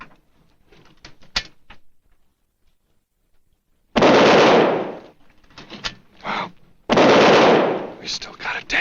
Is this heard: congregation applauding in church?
no